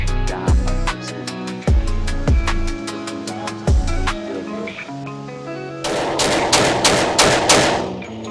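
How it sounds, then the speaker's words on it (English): Pistol shots from a Glock 20 in 10mm and a Glock 19 fired outdoors, a series of sharp, loud, spaced reports followed by a faster cluster of shots near the end, with no talk. "Shot the Glock 20 right next to the Glock 19."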